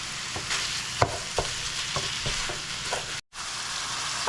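Ground meat browning in a pan for Philly cheesesteak sloppy joes, a steady close sizzle with scattered stirring scrapes and one brief dropout near the end.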